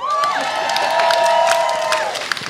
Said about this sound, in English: give yourselves a round of applause if you're from the 90s and you're still alive